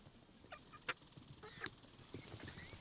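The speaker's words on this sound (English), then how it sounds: "Chickens!" Chickens give scattered, faint, short clucks and squawks over a quiet outdoor background near a chicken run, spaced irregularly across a few seconds.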